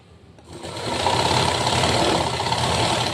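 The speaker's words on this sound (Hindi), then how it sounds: "इस तरीके से इसे हमें बराबर रखना है और इसकी सिलाई कर देना है।" A sewing machine stitches blouse fabric, its motor starting up and settling into a fast, steady whirring hum with rapid needle ticking, close and loud with no voices.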